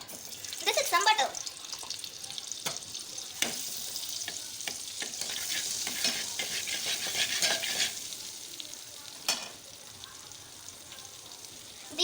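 Butter sizzling in hot oil in a pan, a bright continuous frying hiss with crackles and occasional clinks, fading somewhat toward the end.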